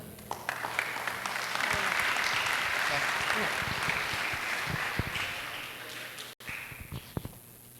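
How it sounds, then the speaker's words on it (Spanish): An audience at an avocado growers' congress applauds to welcome a speaker, a sustained round of clapping in a hall that thins out into a few scattered claps near the end. "Vamos a darle la bienvenida con un fuerte aplauso."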